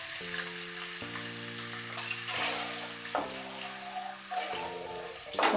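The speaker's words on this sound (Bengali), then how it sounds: "তেলের মধ্যে টমেটোটা ভালো করে কষে নেব যতক্ষণ না তেল ছাড়ে।" Tomato paste fries in hot oil after ginger paste for a vegetarian paneer dish, giving a steady, moderate sizzle with soft bubbling under steady background music.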